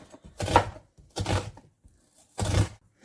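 A knife cuts a pepper into juliennes, giving three separate, close slicing thunks against a cutting board at uneven intervals, with quiet between strokes.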